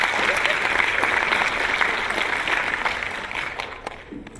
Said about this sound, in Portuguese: Palmas para ela também.